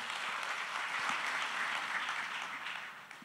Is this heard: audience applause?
yes